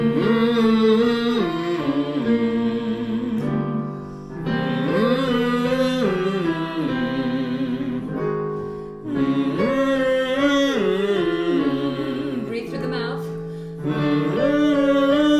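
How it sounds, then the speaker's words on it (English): A voice hums sustained, pitched tones in phrases that slide up and down as a vocal warm-up, separated by short breaths, close and clear with no words. "The first exercise is going to be a hum."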